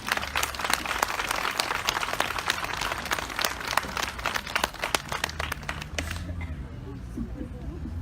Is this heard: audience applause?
yes